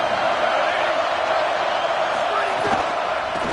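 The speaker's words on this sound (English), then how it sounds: "Listen to this crowd just shaking the girders of this place" A packed football stadium crowd roars continuously and loudly, trying to urge on the home defense, a dense unbroken wall of cheering across the whole moment.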